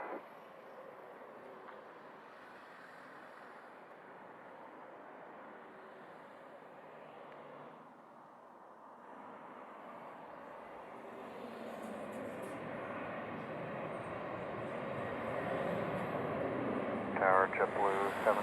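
A United airliner takes off from runway 07 at Montego Bay, Jamaica, a broad engine roar that builds steadily and grows louder toward the end under a faint radio chatter.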